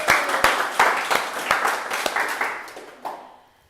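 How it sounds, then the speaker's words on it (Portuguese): Worshippers in a church service give a brother a round of applause, with loud sharp claps at a quick, uneven beat that thin out and fade over a few seconds. "Dá uma salva de palmas pro irmão."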